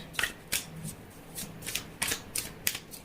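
Tarot cards being shuffled by hand to draw a clarifying card, several quick close riffling bursts at an uneven rhythm with short pauses between them.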